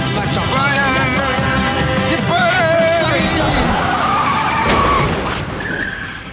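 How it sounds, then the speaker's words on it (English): A car skids with loud, wavering tire squeals in a crash scene from The Wire, the screech rising and shifting over several seconds before it tapers off. "This scene where McNulty takes 2 goes to smash up his car."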